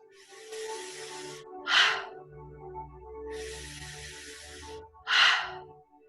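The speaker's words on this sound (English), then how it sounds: "So we're going to breathe in and out of our mouth, and it's going to sound like this." Slow, connected mouth breathing at a relaxed pace: long breathy inhales alternate with sharper, louder exhales in a steady cycle, close and alone with no talk.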